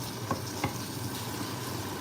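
Tofu, garlic and onion fry in a pan over high heat with a low, steady sizzle and a couple of faint scrapes or taps, close by and without talking.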